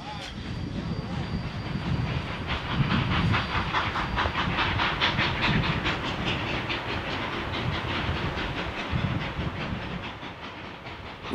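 Denver and Rio Grande 168 steam locomotive hauling a train near Lake Lobato by the Narrows, a steady loud chuffing exhaust with hissing steam and rolling wheel clatter passing close by.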